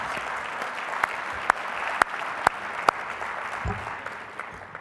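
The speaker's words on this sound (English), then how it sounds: "Let's give him another round of applause." Applause from the audience at a county's State of the County address, a steady wash of clapping with a few loud individual claps standing out near the listener.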